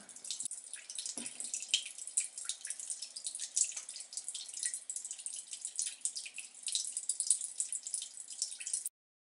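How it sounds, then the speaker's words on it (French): An indoor bamboo fountain's pump keeps water splashing and dripping continuously, a bright, busy patter of droplets heard close up with nothing else over it. "plus la pompe sera haute, plus les éclaboussures seront importantes."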